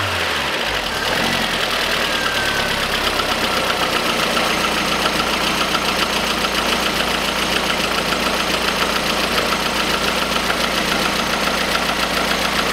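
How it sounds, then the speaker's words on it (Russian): A warmed-up 1.4-litre Lada Kalina engine from 2010 idles steadily and close by, a continuous even hum with a faint ticking knock running through it, after a brief louder start, with no talk. "Двигатель уже и прогрелся,"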